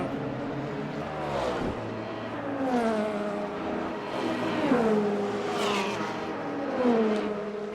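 Race car engines in the Le Mans Ultimate sim at Circuit of the Americas, a Ferrari and Porsche pack, whine through repeated rising and falling gear sweeps, several engine notes overlapping at moderate level with no talking.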